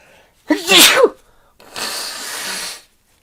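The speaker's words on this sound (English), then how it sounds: "Oh, I feel the sneeze coming on." A single loud, close sneeze with a sharp voiced burst, then a breathy exhale and sniffle.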